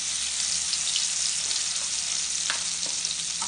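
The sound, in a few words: blended spice paste frying in hot oil in a wok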